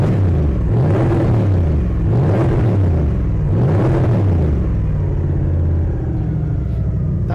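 A turbocharged Toyota 1UZ V8 revs loudly and close up, three rising-and-falling throttle blips followed by a deep, steady idle rumble.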